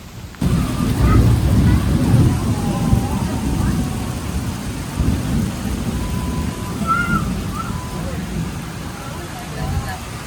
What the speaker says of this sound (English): That is some pretty nasty rain.